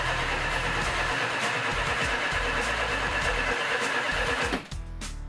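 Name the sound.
car engine cranking and running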